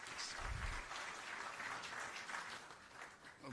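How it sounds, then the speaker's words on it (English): Audience applause at the swearing-in of Ghana's Chief Justice welcomes the President of Ghana to the podium, a steady wash of many hands clapping for a few seconds at moderate, fairly distant level. "Shall we please welcome him with a big round of applause?"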